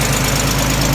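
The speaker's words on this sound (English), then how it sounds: "Very healthy sounding, inline 6-cylinder engine" A 1960 Jensen 541R inline six-cylinder idles steadily and evenly, heard up close as a continuous, loud, smooth hum with no other sounds.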